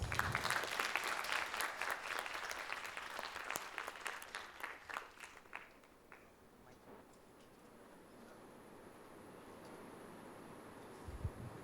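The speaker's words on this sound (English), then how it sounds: "Please give her a big round of applause." Audience at a TEDxYouth talk at an international school claps in a brisk burst of applause that thins out and fades after about five seconds, leaving quiet room tone.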